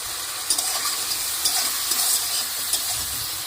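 Chicken curry sizzles steadily in a pan as tomato and sugar go in, a continuous close frying hiss broken by a few soft stirring clicks.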